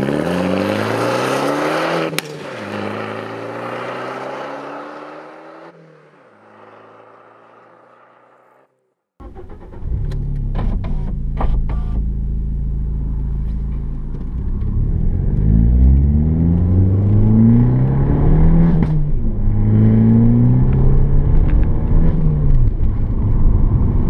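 A car engine cranks and fires up after a brief silence, then settles into a loud, steady idle and revs repeatedly as the car pulls away, with the engine pitch rising and falling through several gear pulls.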